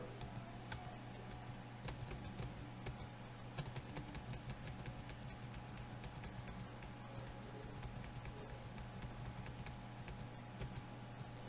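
Steady keystrokes on a computer keyboard while restarting an Apache server during a Moodle install, a continuous run of quick clicks over a low constant hum.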